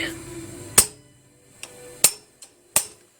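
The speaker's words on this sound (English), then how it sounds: "Grab a hammer and a punch. Just give her a shock." Four sharp metallic taps, irregularly spaced, a hammer striking a punch up close during a valve spring install on an LSA engine, with a quiet hum before the first blow.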